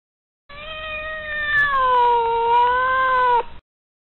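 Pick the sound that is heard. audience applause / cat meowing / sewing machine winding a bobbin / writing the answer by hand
cat meowing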